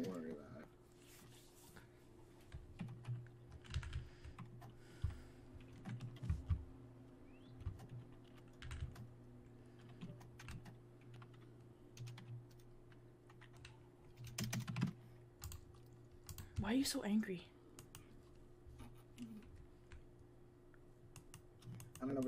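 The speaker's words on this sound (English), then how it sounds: "for some reason my microphone picks up the keyboard" Computer keyboard typing picked up by a gaming microphone, bursts of close clicky keystrokes with pauses between them, while a voice talks briefly.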